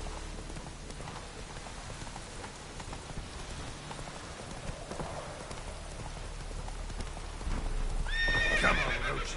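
In The Witcher 3: Wild Hunt, a horse's hooves clip-clop steadily at a gallop through falling rain, with a sharp neigh rising near the end over the constant patter of rain.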